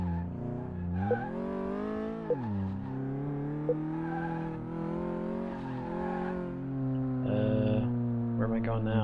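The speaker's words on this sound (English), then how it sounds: "Test track used to check the performance of the car, tests the car's steering," A car lapping the test track in Car Mechanic Simulator 2018, its engine droning and sweeping up and down in pitch with tire squeals as it takes corners, steady and fairly close throughout.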